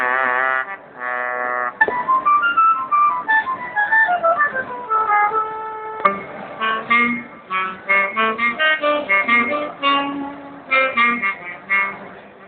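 Trombone voice from a Roland guitar synthesizer, played as a melodic line of brassy notes that slide and step, some held and some short, clean and fairly loud, with no talk.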